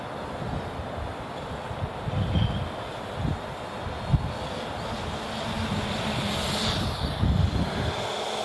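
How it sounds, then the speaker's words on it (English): Hubsan H501S X4 FPV quadcopter drone hovering in GPS mode outdoors on a windy day, a steady whirring drone mixed with continuous wind buffeting the microphone, with gusty low rumbles rising and falling throughout. "this is just it hovering in GPS mode"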